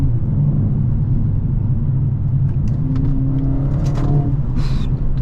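A Mercedes-Benz CLA45S AMG pulls hard in third gear under turbo boost, a steady loud low engine drone heard from inside the cabin, rising slightly in pitch, with faint clicks and whooshes near the end.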